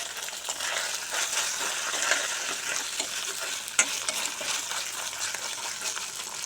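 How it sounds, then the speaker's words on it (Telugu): Ginger-garlic paste frying in a pan as the base for Bombay chutney, giving a continuous bright sizzle with soft stirring scrapes and one sharp clink partway through, close up and without speech. "పచ్చివాసన పోయే వరకు వేగించాలి."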